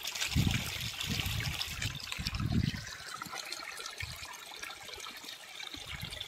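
Hot water pours into flour in a few gurgling bursts, then settles into a softer, thinner trickle.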